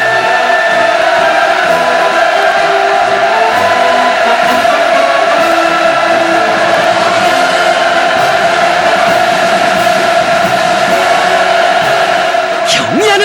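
A crowd of military aviators cheers with a sustained, loud roar in a large setting, rising toward the Supreme Commander as he salutes after a combat flight skills contest in 2014.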